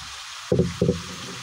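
Chayote and squash are stirred in a frying pan, giving two quick scraping sizzle bursts close up over a quiet low hiss.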